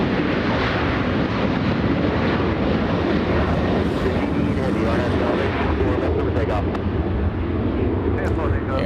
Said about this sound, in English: Air Tahiti Nui, the next takeoff